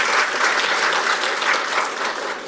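A seminar audience on defense technology claps for a lawmaker, a dense, fairly loud burst of applause that rises and falls slightly and tapers toward the end.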